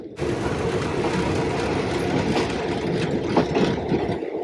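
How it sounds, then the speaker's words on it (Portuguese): A noisy train travels from Bangkok to Chiang Mai, with a loud, steady low rumble of the carriage and engine and some rattling and clanks near the end, heard from inside and with no talk. "É um trem hiper mega massa barulhento."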